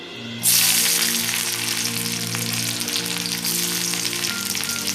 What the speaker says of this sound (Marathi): लसूण आणि मिरची, याला थोडं फ्राय करून घ्यायचं आहे